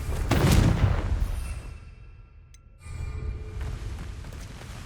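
A Confringo blasting spell explodes in Hogwarts Legacy with a sharp, heavy boom that swells and then decays into quiet, followed by a second lower rumbling surge that lingers to the end.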